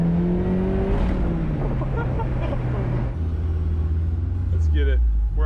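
A silver Mazda Miata NB cruises along with a steady engine drone that shifts pitch as it changes gear, heard from inside the car while people talk over it.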